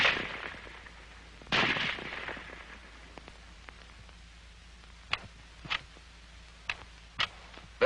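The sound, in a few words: M1 Garand semi-automatic rifle firing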